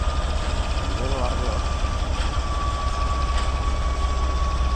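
A train rumbles steadily with a heavy low engine drone and a faint sustained whine, heard close and continuous while people talk over it.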